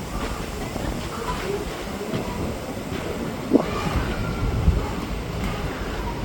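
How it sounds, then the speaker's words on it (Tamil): Heard from on board, the Madurai–Sengottai passenger train runs with a continuous low rumble and hiss, occasional wheel clicks and a couple of brief knocks standing out over the steady noise. "இந்த பிரயாணம் பேசஞ்சர் ட்ரெயின் இது இன்னும் ஸ்பெஷலாகவே ஓடிக்கிட்டு இருக்கு"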